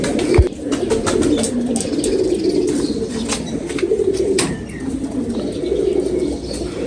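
Pigeons coo continuously up close, soft rolling calls layered over one another, with a quick flutter of wings and faint chirps mixed in.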